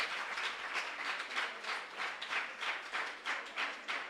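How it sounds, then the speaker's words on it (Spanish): Applause from a school audience at a mathematics lecture, welcoming a student's correct answer; steady broadband clapping with a faintly pulsing rhythm, moderately loud and continuous, with no talking over it. "Un aplauso para el muchacho."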